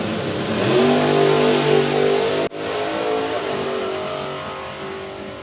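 A drag racing dragster engine screams loud and close, accelerating down the strip in the Auto Glym lane at a drag racing event. It cuts out abruptly partway through, then roars back at a steady, sustained pitch.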